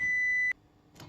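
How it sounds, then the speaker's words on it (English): A kitchen timer gives one clear electronic beep in a quiet kitchen during sauce canning, then a soft clatter follows. "There's the timer."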